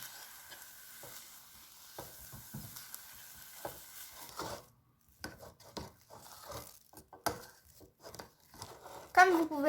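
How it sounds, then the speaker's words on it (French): A spoon stirs choux pastry dough in a saucepan on the heat to dry it, giving soft scraping and sizzling sounds in irregular strokes, with someone speaking over much of it. "Il faut remuer 3 à 4 minutes pour sécher la pâte."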